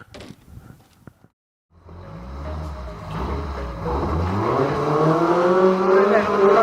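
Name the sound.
Retro Rods race car racing at Swaffham Raceway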